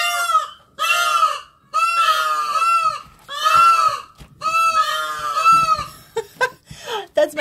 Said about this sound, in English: my peacocks heralding their happiness